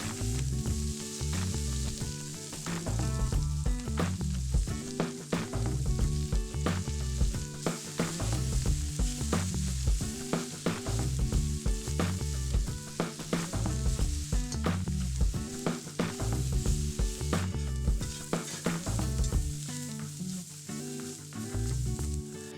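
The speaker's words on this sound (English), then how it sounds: "Put the greens into the hot skillet and let it wilt down and cook." Lambsquarters greens sizzle and wilt in a hot skillet, a loud, continuous frying crackle with rhythmic bursts of stirring, heard alone without talk throughout.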